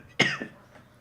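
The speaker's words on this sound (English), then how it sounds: "I genuinely had a bad cough there." A single sharp close cough with a short second hack right after, alone with no talk.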